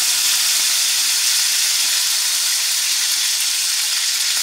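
A filet steak sizzles loudly and steadily in a frying pan after basting, a dense, unbroken hiss close up with no one talking.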